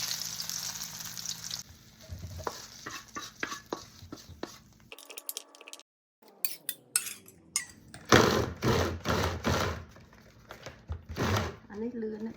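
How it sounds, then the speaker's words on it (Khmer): An electric grinder whirs in bursts as chili and other ingredients for a fermented fish paste sauce are ground, with loud buzzing spurts, a short pause, then longer close-up grinding runs, while a person talks in between. "បានហើយយើងយកទៅកិនសិន"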